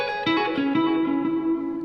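A guitar plays a few clean notes through a UAFX reverb pedal; they ring out and blend into a long, washy reverb tail, sustained and smooth with no voices.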